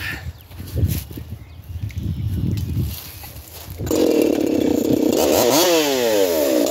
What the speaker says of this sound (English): Let's see how that 4910 can do a crosscut.